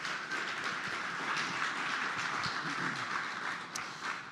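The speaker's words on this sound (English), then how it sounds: "if you guys can help me give a round of applause to our judges who are here" At a demo-day showcase and competition, an audience applauds the judges with a dense, steady wash of clapping that holds for several seconds and then begins to thin.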